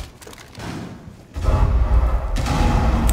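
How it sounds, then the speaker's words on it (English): Explosions in the Rainbow Six Siege video game come as a muffled thud followed by a louder, sustained rumbling blast in close succession, heavy in the low end. "That is a shitload of explosions"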